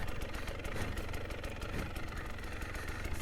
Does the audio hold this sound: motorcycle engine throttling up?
yes